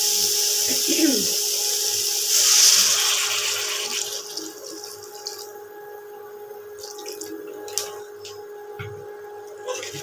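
Water streams into a pot of potato and pointed gourd dal with a bright, rushing pour, then thins out into quieter trickles, drips and a light clink of utensils.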